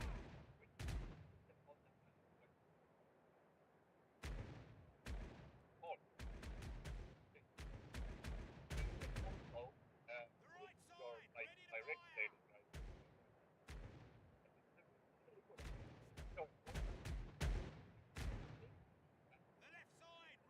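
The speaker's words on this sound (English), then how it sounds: "The left side, ready to fire. The right side, ready to fire." Ship cannons fire broadside in the naval game Caribbean Legend, with repeated loud booming blasts in irregular clusters and rolling echoes, separated by quieter gaps, while a voice talks intermittently between volleys.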